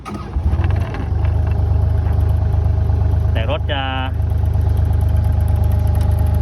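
Kubota R430M wheel loader engine turning over and settling into a steady diesel idle, heard up close and continuously with a brief high-pitched warning chirp partway through, while someone talks over it.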